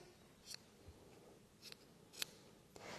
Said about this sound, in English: I'm just snipping off a lot of this excess yarn so it's nice and even